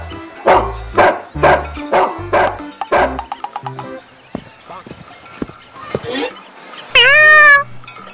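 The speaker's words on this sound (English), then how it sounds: "Dog." Dog barks in a rapid run of five or so sharp yaps, then quieter sounds, ending with a brief high meow-like cry, all over background music.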